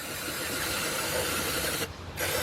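Steady aerosol spray hissing continuously at close range onto the connecting rod and main bearing journals of a 2003 Nissan Maxima 3.5 engine, broken by a brief pause near the end before resuming.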